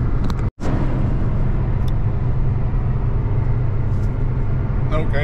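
Steady low engine rumble and road noise inside a truck cab, driving down an empty highway in snowy conditions on an RV transport trip, continuous and close with one brief dropout.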